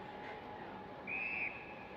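An umpire's whistle sounds once at a WAFL Colts Australian football match between South Fremantle and West Perth, a short, fairly faint blast of under half a second over the broad hiss of the ground.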